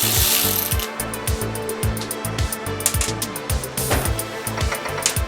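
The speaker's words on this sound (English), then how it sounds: "To disassemble the pump, you must first remove the bolt and washer that holds the pump impeller in place." A ratchet wrench loosening the bolt holding the impeller on an Arctic Cat ZRT Thundercat water pump, rapid repeated clicking strokes in quick bursts, close and clear.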